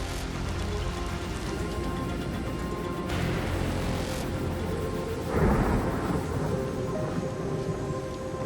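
Heavy rain falls in a remote river region as water levels rise, with low rolling thunder rumbling continuously beneath a steady wash of rainfall, a heavier burst arriving partway through; no voices.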